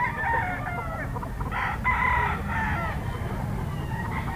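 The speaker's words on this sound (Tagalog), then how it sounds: "Sa bagong pistuhan ng mga manok" Chickens and roosters at a Sunday pet market cluck and crow in overlapping bursts, a rooster call standing out near the middle over steady crowd and market din.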